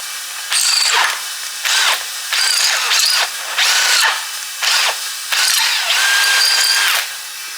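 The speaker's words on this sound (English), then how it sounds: "Why are you drilling them out?" A power drill whirring through metal holes on an old Ford Escort Mk2 rally car in about seven short bursts with brief pauses between, loud and close, no talking.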